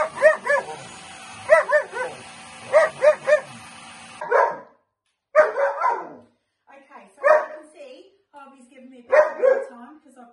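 A dog barks in quick repeated bursts, close by, then gives a few separate, spaced-out barks and yips with short silences between them.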